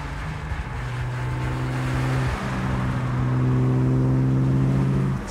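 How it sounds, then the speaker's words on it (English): A 1961 Aston Martin DB4GT Zagato engine drones steadily while driving, heard from close by. It dips briefly as the gears change and then pulls on under rising revs. "It's not lost on me how privileged I am to be driving one of the true original Zagatos."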